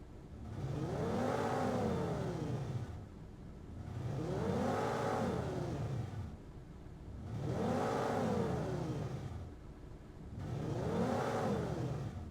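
Synthesized engine sound effect built from scratch sweeps its RPM up and down in four smooth, repeating cycles, each swell rising then falling with brief quieter dips between, moderately loud and alone.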